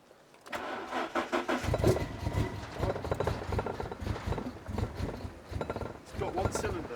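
A Fiat Coupe engine runs roughly on one cylinder, sputtering and lumpy with uneven knocking pulses, while people talk over it.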